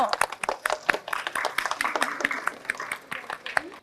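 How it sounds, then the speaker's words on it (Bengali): Students clap for a second-place winner of a math race at a school event, a dense, lively round of applause with sharp individual claps throughout, close and sustained for a few seconds. "আজকে আমাদের অঙ্ক দৌড়ের দ্বিতীয় স্থান অধিকারী হাততালি হবে ওর জন্য"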